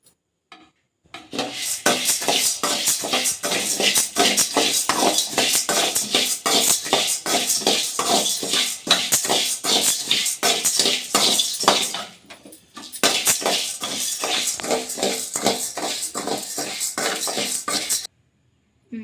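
Toor dal dry-roasting in a pan while being stirred makes a continuous, rhythmic rattle and scrape of spoon and grains against metal. The sound is close and loud, with a brief pause partway through and no talk.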